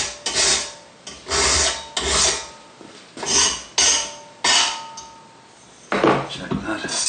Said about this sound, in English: Now let's take the burr off and we'll just give it a try.